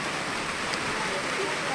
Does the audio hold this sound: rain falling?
yes